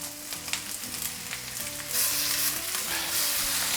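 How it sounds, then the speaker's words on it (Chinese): Marinated chicken hits a hot pan over low heat after garlic and scallion have been browned, setting off a steady crackling sizzle that swells louder partway through, with no one talking. "接下来关小火，下入刚刚腌好的鸡肉"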